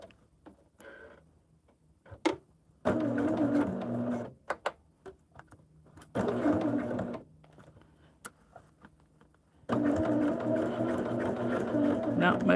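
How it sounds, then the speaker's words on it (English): A sewing machine stitches in three separate runs of a second or longer, with starts and stops and scattered ticks in between, fairly close and clear, while a person talks during the gaps. "And now we shall sew it."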